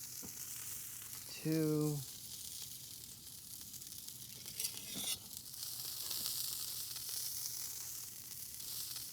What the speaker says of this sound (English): Use a palette knife to slide the fish off the grill.